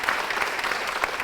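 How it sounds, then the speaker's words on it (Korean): Church congregation applauding to welcome a guest, a brief dense burst of many hands clapping together at close range, with no voices over it. "우리 박수로 한번 맞아보겠습니다."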